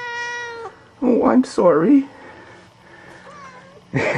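A farm cat meows repeatedly and close by: a long plaintive tonal cry, then two short sharp complaining meows, and another starting at the end, with a person talking briefly in between.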